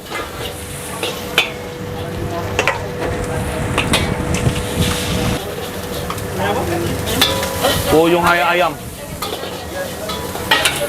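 Seafood fried rice being stir-fried in a wok at a busy food stall, with steady loud sizzling, scraping and clanking of a metal spatula against the pan, while a voice speaks briefly over the cooking.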